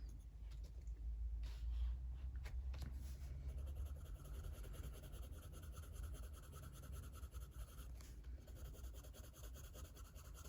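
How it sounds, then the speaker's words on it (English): A coloured pencil grinds steadily in a sharpener at a desk during a colouring session, a continuous scratchy rasp with small rubbing bursts lasting about ten seconds, fairly quiet and close. "I'm gonna give my pencil a quick sharpen."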